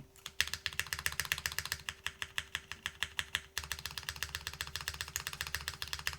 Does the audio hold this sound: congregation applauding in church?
no